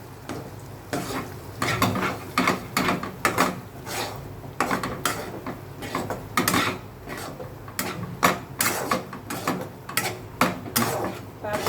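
Crushed bhakhri and cardamom being stirred in a pan, a close run of repeated scraping, rustling strokes in an uneven rhythm with a light sizzle beneath, no talk.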